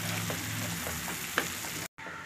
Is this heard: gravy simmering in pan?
yes